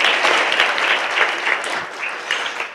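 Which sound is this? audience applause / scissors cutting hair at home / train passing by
audience applause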